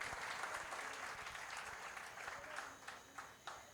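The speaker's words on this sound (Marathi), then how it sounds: "परत एकदा टाळ्या होऊन जाऊ" An audience at a Ganeshotsav cultural program claps in a dense patter of applause after a folk dance performance, gradually thinning out, with a few sharper individual claps toward the end.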